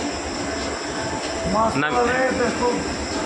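Rumbling of a Vande Bharat express train at close range at Bilaspur railway station platform, with metallic clatter and a brief squealing whine, continuous and fairly loud.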